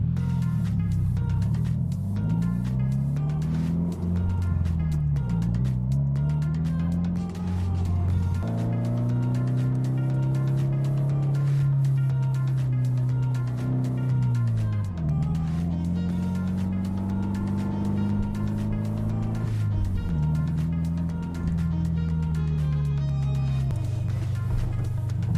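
A manual-transmission car engine drones steadily while driving, its pitch climbing and then dropping several times as it goes up through the gears. The sound is loud and close, with no talking.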